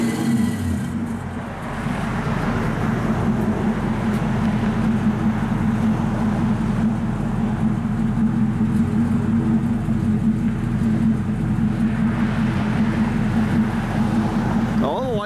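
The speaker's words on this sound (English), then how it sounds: "Got real nice dual exhaust. It's not real loud, just sounds real good." A 1972 Chevrolet El Camino SS 350 with dual exhaust idles with a deep, steady rumble, continuous and moderately loud throughout.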